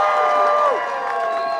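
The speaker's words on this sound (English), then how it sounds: "One more time, can we get a round of applause for the cast of Naruto?" A convention panel crowd at Anime Riverside 2024 cheers and applauds for the Naruto voice cast, a loud, dense roar of clapping with whoops and shouts layered over it, close and continuous.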